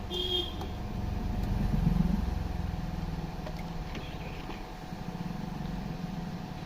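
A new Jack A4C industrial sewing machine with auto trimmer switched on and running, giving a steady motor whir and hum that swells briefly then holds, close by with no speech.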